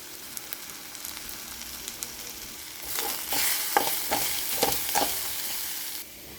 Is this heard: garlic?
yes